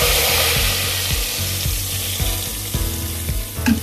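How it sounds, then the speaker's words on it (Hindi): Onion and garlic tempering sizzles loudly in hot oil for chana dal, a continuous bright crackle with rhythmic scraping or stirring knocks underneath, close and without talk. "ये हमारा जो प्याज लहसुन गरम हो गया है"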